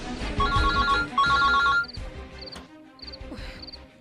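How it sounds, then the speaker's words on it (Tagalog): A cellphone rings with a bright repeated electronic ringtone, several short chirping bursts, loud and close over a busy background of music and clatter. "Cellphone."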